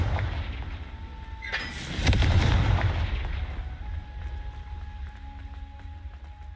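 Confringo fire spell blast in the video game Hogwarts Legacy, a single heavy booming burst with a rumbling tail, loud and close, settling into low game ambience and faint tones.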